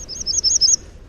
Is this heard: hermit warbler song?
yes